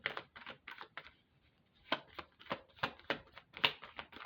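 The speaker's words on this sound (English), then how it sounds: "That means I need to stop shuffling." Tarot cards are shuffled in quick bursts of riffling, papery flicks, close and fairly crisp, with a brief pause between two runs of rapid shuffling.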